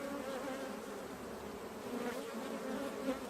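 Honeybees hum steadily and close up throughout an open hive inspection, a continuous dense buzz with no talking over it.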